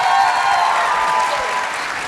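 A convention panel audience gives loud, sustained applause for the panelists, a thick continuous roar of many hands clapping close by with cheering mixed in.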